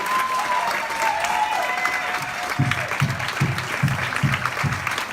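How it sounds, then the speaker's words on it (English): An audience at a question-and-answer panel on virtual party training gives sustained applause, a steady wash of many hands clapping with some rhythmic stomping or thumping joining in midway. "I need to hear thunderous applause for our three wonderful speakers today."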